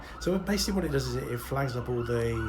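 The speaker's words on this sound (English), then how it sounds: "sorry about the sirens going past" Emergency vehicle sirens wail steadily as they pass, partly masked by someone talking close by throughout.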